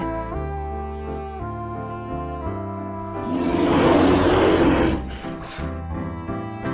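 A bear gives a loud, close, breathy growling roar for a couple of seconds over a steady musical backing, then it fades out.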